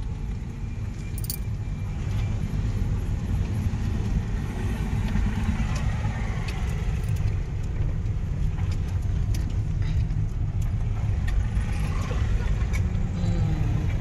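Steady road traffic of cars and trucks on a congested road nearing a highway, a continuous loud engine rumble and tyre roar heard close, with occasional light rattles and jangles over it and a voice partly under the noise.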